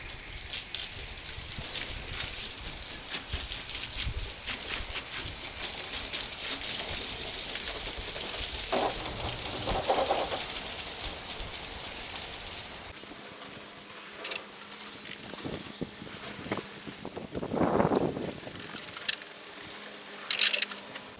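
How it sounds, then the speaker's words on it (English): Water from a hose sprayed at full force over the ceramic-coated hull of a 34-foot Caymas catamaran during a rinse, a steady broad hiss and splash that runs continuously, then thins and changes pitch in the later part with brief bursts. "we're gonna full beam rinse this off, and we want to make sure we get all the Replenish off"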